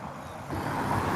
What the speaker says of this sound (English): Just letting the car go past.